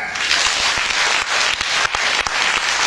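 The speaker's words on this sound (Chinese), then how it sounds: "掌声起来" A theater audience at a Chinese crosstalk comedy show breaks into loud, dense applause, a continuous wash of clapping with a few sharper individual claps that holds steady for about three seconds.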